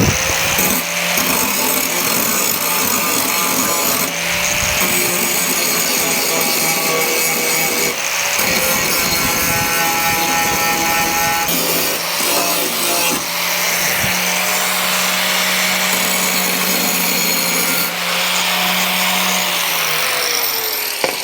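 An angle grinder works a weld on a metal door, a loud continuous grinding whine with brief dips and pauses as the disc lifts and returns to the metal.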